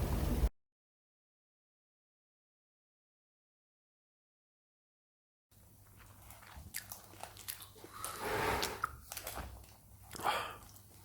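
Someone bites and chews a chicken lavash up close after a stretch of silence, with moist crunchy chewing and wrapper rustles building in bursts over a low steady hum.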